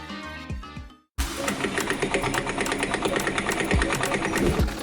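A sewing machine runs fast and loud with a rapid, steady mechanical chatter, following a brief moment of quieter sound that cuts to silence.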